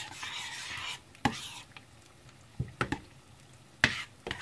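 Sweet and sour sauce being stirred in a pan, with soft scraping under a steady sizzling hiss and a few sharp utensil clinks against the metal.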